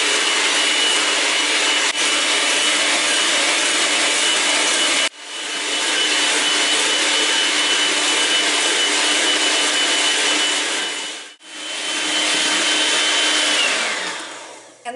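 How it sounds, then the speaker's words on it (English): A KitchenAid mixer whips egg whites into stiff peaks, a loud steady whirring drone with a slight high whine, stopping briefly twice and then starting up again, with no voices. "You can use the whisk, you can use the beaters, you can use a KitchenAid, and I'm going to turn it on"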